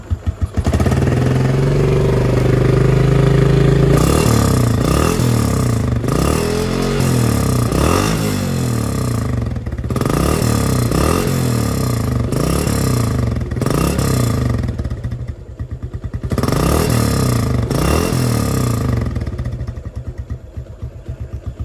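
A Yamaha Jupiter MX motorcycle fitted with a Satria FU exhaust is revved up close in repeated throttle blips, loud rasping surges rising and falling over a steady idle, with brief dips between bursts.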